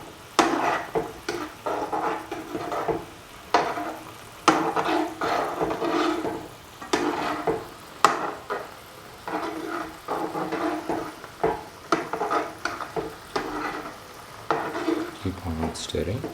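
A spoon works through cucumber, yogurt and coconut curry in a pan, producing close, repeated scraping and clinking strokes in an uneven rhythm over a soft sizzle, with a voice faintly present at times.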